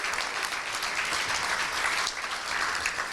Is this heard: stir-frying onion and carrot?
no